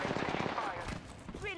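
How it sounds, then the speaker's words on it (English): Rapid gunfire in a ranked arena shooter game rattles as dense, loud automatic bursts mixed with game effects, with a player's voice over the shots. "I'm getting shot at."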